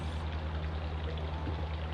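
Orange poppyseed cake batter poured into a round cake pan: a soft, steady trickling pour close by, quiet and continuous, with no talk.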